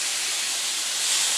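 Water splashed into hot melting jaggery in a pan sizzles as a loud, steady steam hiss that fills the whole moment without a break, with no voices over it.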